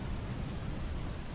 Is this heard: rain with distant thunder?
yes